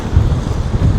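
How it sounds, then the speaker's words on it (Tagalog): Strong wind buffets the microphone with a continuous low rumble and gusty roar, loud and close, with no voices. "Lakas ng hangin."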